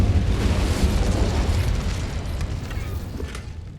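Incendio fire spell in Hogwarts Legacy, a dense roaring burst of flame that swells immediately and then slowly fades over several seconds, loud and close.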